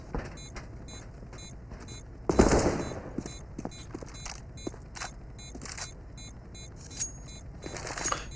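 Gunfire in the video game CS:GO, with one loud burst of shots followed by fainter scattered in-game shots and clicks over a steady background hum.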